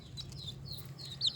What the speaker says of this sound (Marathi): कोंबडीची पिल्ल आहेत.